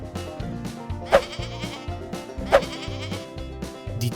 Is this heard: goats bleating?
yes